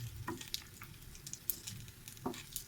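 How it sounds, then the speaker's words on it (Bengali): Leftover curry is reheated and fried in a pan with a quiet sizzle, punctuated by intermittent soft stirring scrapes and small splattering pops, without speech. "ভাতের তরকারিগুলো গরম করে নিব, ওইগুলো ভেজে নিলাম"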